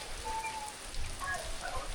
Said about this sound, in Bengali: এই ভাই বৃষ্টি বাড়তাছে দেখছেন